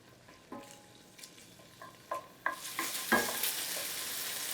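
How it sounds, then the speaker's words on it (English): Bacon frying in a pan starts with a few spatters and clicks, then swells into a steady bright sizzle that carries on to the end, close and fairly quiet. "while the bacon is cooking"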